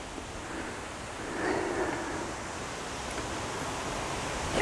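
Steady side wind blows across a carp fishing lake, a broad even rush with a slight swell in the middle and no voices.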